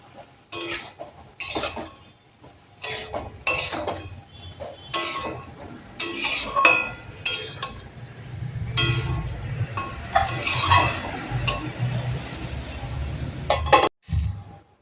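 Greens cooked with salt and turmeric powder are stirred in a pan, with repeated sharp scraping and clinking strokes of a utensil against the pan at an uneven rhythm, growing into a denser sizzling texture toward the end.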